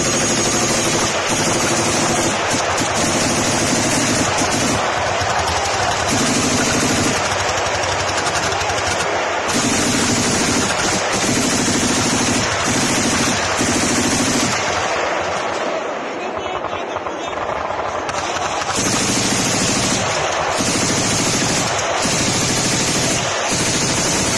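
Rapid bursts of machine gun fire from an air defense mobile fire group, loud and near, come in repeated clusters over a constant rumble, with shouted talk mixed in.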